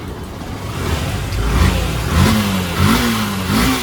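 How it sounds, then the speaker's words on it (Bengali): A motorbike engine running after servicing at a repair shop, revving up in several rising bursts over a steady idle, loud and close with no talking. "আওয়াজ কি গাড়ির আওয়াজ!"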